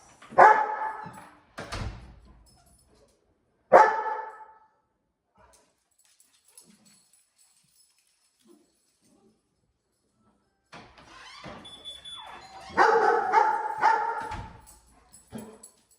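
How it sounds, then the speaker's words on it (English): A dog barks loudly a few times in short bursts, followed by a quiet pause and then a longer stretch of rustling and shuffling. "She barked at the same time that I started opening that door."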